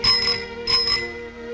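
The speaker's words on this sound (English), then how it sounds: "Oh, sure it sounds like the bells of St. Patrick." A bicycle bell on a new, fancy bicycle rings twice in quick succession, bright and close, with the second ring left to fade out.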